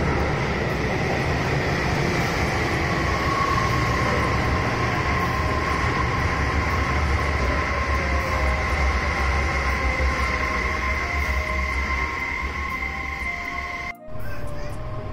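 A Kobe Municipal Subway train passes through a station, giving a steady loud rumble with sustained tonal whine throughout, ending abruptly near the end.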